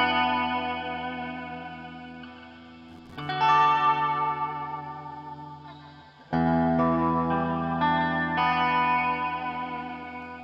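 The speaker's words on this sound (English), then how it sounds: "so that is the reverb" An electric guitar played through an Analog Alien Rumble Seat pedal with very wet reverb rings out in sustained, shimmering chords, each strum blooming and slowly decaying into the next, loud and without speech.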